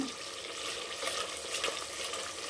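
Masala fries in a pan for egg curry, a soft continuous sizzle and hiss with faint scraping as it is stirred, close by and without speech.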